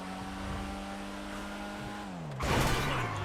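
A Ford Sierra Cosworth RS500 in GTA Online revs steadily, its engine tone holding and then dropping before a loud burst of acceleration and noise near the end.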